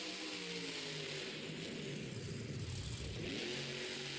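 The Avenger monster truck, with a spider body, revs its engine loudly inside a stadium at a Monster Jam event, a continuous roaring engine whose pitch dips and climbs again.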